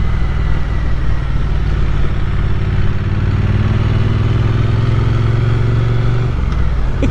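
A Triumph Speed Twin 900 motorcycle ridden through a built-up town area, its exhaust giving a continuous, loud, rumbling engine drone with no talk over it.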